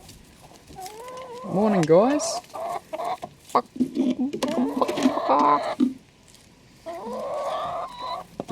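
Chickens cluck in a chicken run in the morning, several rising and falling calls close by, with a person speaking over and between them.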